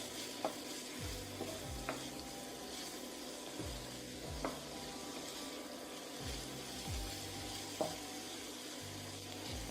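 Shrimp sizzle as they fry in a pan for nasi goreng, with a steady frying hiss and repeated scraping stirs at a roughly regular rhythm, close and alone.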